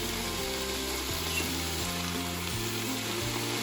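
Cabbage sizzles steadily as it is stirred and sautéed in a pan, a close, continuous frying hiss with soft scraping of the stirring under it and no talking.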